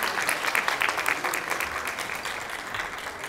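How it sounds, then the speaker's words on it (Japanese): Applause for the film's director and cast at a Tokyo International Film Festival lineup press conference, a dense continuous patter of clapping from the room, fairly even in loudness throughout. "監督、キャストの皆さんに大きな拍手をお願いします。"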